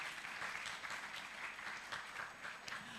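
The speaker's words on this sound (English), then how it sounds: "Can we get a round of applause from them?" Audience applause at a faculty orientation day, steady soft clapping from a gathered group that continues evenly for a few seconds, heard at a distance and fairly faint.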